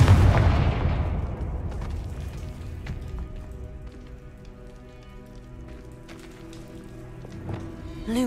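A Confringo explosion spell cast in the Hogwarts Legacy game bursts with a loud opening blast, then fades into a crackling, sputtering tail of scattered debris-like pops and a faint hum.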